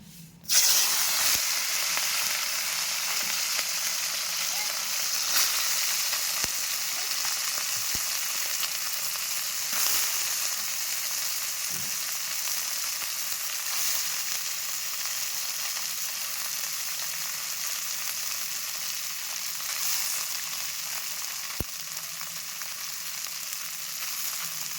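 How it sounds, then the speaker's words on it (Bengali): Fish frying in hot oil, a steady close sizzle that holds for the whole stretch with a faint hiss and an occasional soft tap, and no talk over it. "খুব ভালো ভেজে নেব আমরা"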